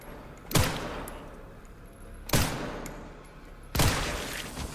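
Three loud, sharp gunshots spaced about two seconds apart, each with a decaying tail, fired at a zombie in Resident Evil Requiem amid a quiet, dark ambience.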